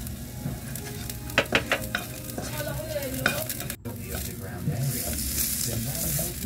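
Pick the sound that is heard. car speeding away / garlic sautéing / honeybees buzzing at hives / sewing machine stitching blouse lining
garlic sautéing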